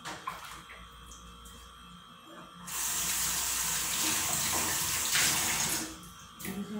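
Water drains from a kitchen sink during dishwashing, the slow drain finally letting the water go down. A soft, steady rush of flowing water lasts several seconds at low level, with quieter background before and after.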